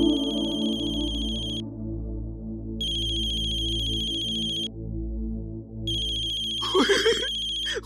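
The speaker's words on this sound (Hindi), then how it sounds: "शान का फोन" A phone ringtone plays in three repeated electronic bursts, loud and close, with a brief voice near the end.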